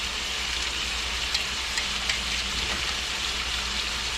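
Sauce for Hawaiian pork heats in a pan just short of a boil, giving off a steady, close, soft sizzling hiss with a few faint pops scattered through.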